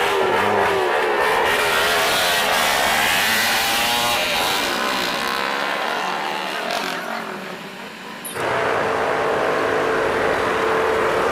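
A tour bus on the road toward Sukabumi driving at full throttle, with a loud, sustained engine roar and shifting whine that dips briefly before surging again, close and continuous.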